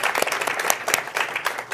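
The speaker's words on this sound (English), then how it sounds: "Can we give a round of applause for them as well?" Applause from a live studio audience filling the room, dense steady clapping that holds at an even level for the whole stretch with no voices over it.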